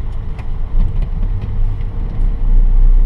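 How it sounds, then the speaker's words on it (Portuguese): A loaded truck pulls away in second gear on flat ground in Japan, its deep engine rumble building and growing louder toward the end, heard close with no talking. "Ó, caminhão mesmo carregado, eu tô saindo em segunda marcha"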